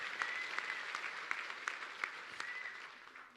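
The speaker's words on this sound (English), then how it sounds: "let's give him a big round of applause" Quiet, distant applause from an audience at a talk, with scattered individual claps and occasional whistles over a soft steady patter.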